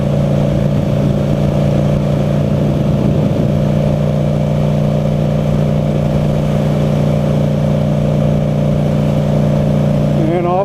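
A motorcycle with a five-speed gearbox merges onto a freeway, its engine droning loud and close at a steady pitch with wind rush, climbing slightly near the end.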